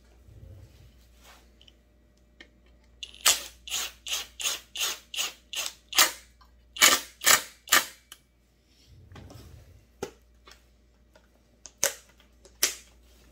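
Screws being fastened on a Shindaiwa 757C chainsaw, a quick run of sharp ratcheting clicks in close succession, then a pause and a few more scattered clicks, close and crisp in an otherwise quiet space.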